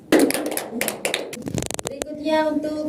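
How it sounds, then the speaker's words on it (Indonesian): Classroom applause for a student, a burst of clapping hands that starts suddenly, runs briefly and fades, with a teacher's voice speaking over and after it. "Tepuk tangan untuk anak Atun"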